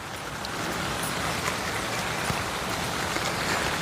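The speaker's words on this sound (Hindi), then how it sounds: "डेली बारिश हो रही है और बारिश की वजह से ये पूरी ऐसी हो गई है" Steady rain falls on surfaces around a hillside home, a dense, even hiss of drops that stays constant and fairly close throughout with no voices.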